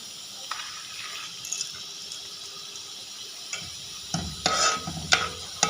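Melon seeds go into raw mango chutney in a pan: a soft bubbling simmer, then a few louder scraping and stirring bursts near the end, with no talk.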